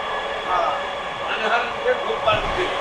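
A Dhaka metro rail train running, giving a steady rumbling hum inside the carriage at moderate loudness, with people talking over it.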